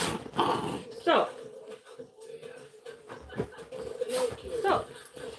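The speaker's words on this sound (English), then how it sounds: "These are my crazy dogs." Several dogs whimper, growl and yip in short, uneven bursts close to the microphone, mixed with a person's shouting.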